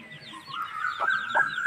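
Three-day-old baby chicks peep and cheep together in a dense, continuous flurry of high overlapping chirps, heard up close. The calls grow louder toward the end with a couple of sharper cries, and no one speaks.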